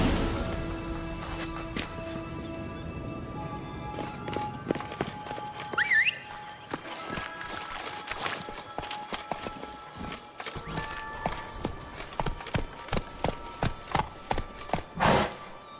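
Hooves of Geralt's horse Roach in The Witcher 3 video game, a rhythmic clip-clop growing into a fast gallop over music and ambient whistles, the hoofbeats sharp and close.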